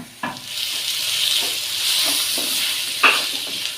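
Onions fry in a pan with ginger garlic paste added for a kurma, giving a steady, fairly loud sizzle broken by a few sharp stirring scrapes.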